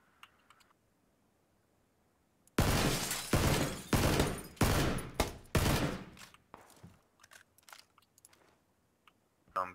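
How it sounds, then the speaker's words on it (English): A rapid string of close, sharp gunshot bursts from the video game PUBG rings out after a near-silent start, then tapers into a few scattered clicks and quieter shots. "Yep, I'm gonna shoot at him."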